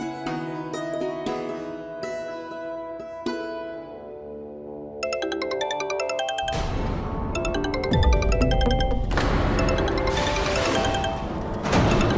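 A phone ringtone plays a bright, repeating electronic melody that gets fuller and louder partway through, ringing on continuously without any talking.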